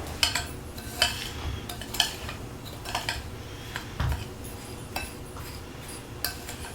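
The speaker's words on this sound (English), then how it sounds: "we're going to add about a cup of breadcrumbs. Give that a good stir." Melted butter and breadcrumbs stirred in a pan for a broccoli rice casserole, a spoon scraping and clinking against the metal in irregular strokes, close and fairly quiet with no talking.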